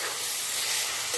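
Roasted garam masala being stirred into a chhana (cottage cheese) curry in a pan gives a short, steady, close hiss of sizzling with no distinct scrapes.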